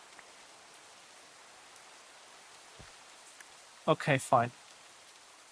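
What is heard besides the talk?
rain falling in the video game Minecraft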